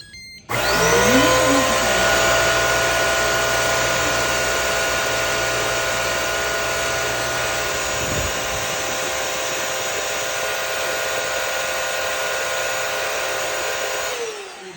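A vacuum cleaner cleaning a floor starts up and runs with a loud, steady whine and hum, then winds down at the very end.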